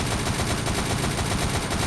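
Dense automatic gunfire from the zombie shooter game Unkilled, a continuous loud rattle of rapid shots filling the whole stretch with no pauses and no talk.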